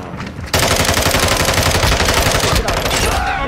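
Rapid automatic gunfire in Modern Warfare 2 on the Shipment map, with a dense, loud burst of shots beginning after a brief quieter moment and continuing for about three seconds.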